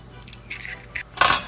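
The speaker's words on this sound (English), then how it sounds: "Take a fork, whisk it." A fork whisks an egg in a small bowl, making light, quick scrapes and taps against the sides that build to a sharper metallic clink at the end.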